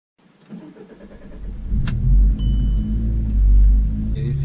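A fuel-injected car with an electronic throttle body cranks and fires up, its low engine rumble building into a steady, close idle with a few brief higher clicks on top.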